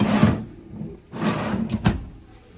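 Drawers in a 2017 Gulfstream Vista Cruiser RV slide open and shut in two or three quick, close wooden knocks and rumbles, with a sharp click near the end.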